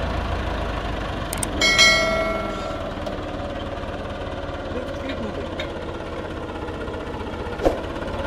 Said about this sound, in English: Now I will show you how the tractor will move and it will make the ridges and these marks simultaneously.